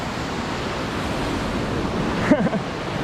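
Rushing water at Khlong Phaibun waterfall, a steady broadband roar that holds at an even level throughout, with a brief faint sound breaking in near the end.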